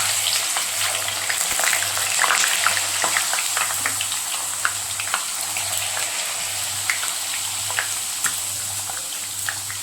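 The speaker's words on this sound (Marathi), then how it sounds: "हे एक एक करून असे हे तळून घेते।" Thin fasting snacks fry one by one in hot oil, giving a steady, close sizzle with scattered crackles and pops that runs unbroken for about ten seconds, with no talking.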